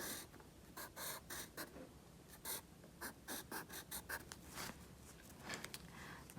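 Hand-lettering the alphabet in an art lesson, with rhythmic scratchy pen or pencil strokes on paper coming in short bursts, close and clear, with no talking.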